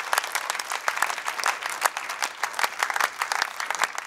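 An audience claps in a dense, steady burst of applause that carries on without a break.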